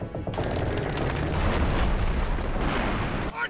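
Cannon artillery fire in the Attack on Titan anime, a loud sustained rumbling blast that roars for several seconds before cutting off.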